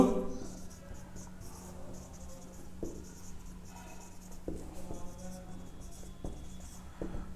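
Someone hand-writes Coulomb's law for a class, the pen making close, quiet scratching strokes broken by a few soft taps, with no talk.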